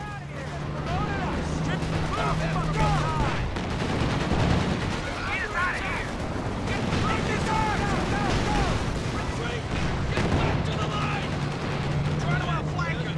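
Anti-tank guns firing in a Company of Heroes 2 3v3 battle, dense overlapping gunfire and explosions rolling continuously beneath a steady engine drone, with a player's voice talking over the chaotic combat.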